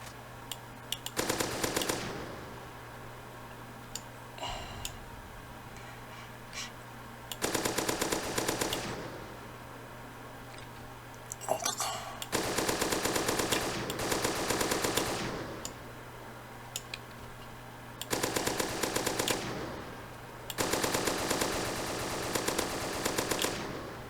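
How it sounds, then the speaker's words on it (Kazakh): In a zombie shooter video game, a machine gun fires in four long sustained bursts separated by short pauses, loud and rapid, over a low constant game hum. "Пулемет мощный екен достар."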